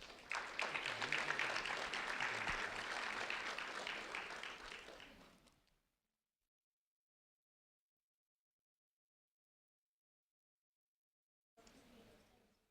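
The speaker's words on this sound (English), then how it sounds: "a round of applause for Cameron Grace, please" Applause for second-grade student Cameron Grace at an award ceremony rings out for several seconds and fades into silence, followed by a brief faint return of room sound.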